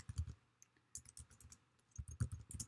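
Bursts of quick keystrokes on a computer keyboard, close and fairly quiet, typed in short clusters with brief pauses between them.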